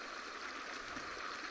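A stream of water flows in the Eleusis video game, a steady, soft rushing and trickling that stays even and fairly faint throughout with no other sounds over it.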